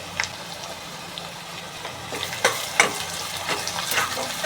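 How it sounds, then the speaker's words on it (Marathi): Onions sautéing in a pan with turmeric and salt for Karnataka-style uppit: a soft, steady frying sizzle that grows busier with scattered stirring clicks and scrapes, close but moderate in level, no talking. "कांदा चांगला लालसर होईपर्यंत आपण परतून घेऊया"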